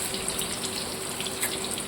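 Curry leaves and a bay leaf hit hot oil with chopped onion while cooking Madras-style chicken curry, giving a steady close hiss and crackle of frying with no pauses.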